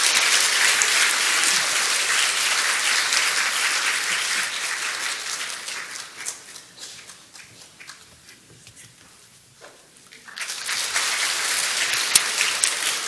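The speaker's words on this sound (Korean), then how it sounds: "힘찬 박수로 환영해 주시 부탁드립니다." Church congregation applauding to welcome new members, loud sustained clapping that fades to a lull with scattered sounds before a second strong wave of applause returns.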